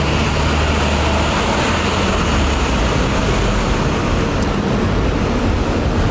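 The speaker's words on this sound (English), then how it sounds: "There's a lot of traffic, so there's just a lot of stuff." Heavy traffic on Fifth Avenue in the city, a loud, unbroken roar of engines and road noise that holds steady throughout with no pauses and no voices.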